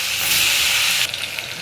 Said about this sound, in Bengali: এই একই তেলের মধ্যে মাছ ভাজার জন্য দিয়ে দেবো।